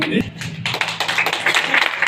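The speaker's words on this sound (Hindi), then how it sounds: "जोर में तालियों से स्वागत किया गया" Applause breaks out at a Bharatiya Kalakar Sangh artists' gathering in Kunkuri, Jashpur, Chhattisgarh, starting with a few taps and swelling into dense, loud clapping over a speaking voice.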